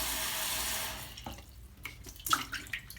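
Running water splashes over essential oil diffuser parts during a rinse, a steady tap stream that cuts off, followed by a few drips and handling clatters.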